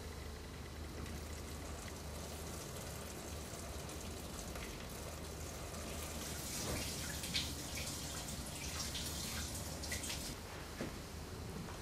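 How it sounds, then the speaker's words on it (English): Water poured slowly through a colander into an aquascaped aquarium makes a continuous soft patter of drips and trickles, faint and steady, growing a little busier toward the end. "I'll be pouring the water in really slowly, which will help disperse the water"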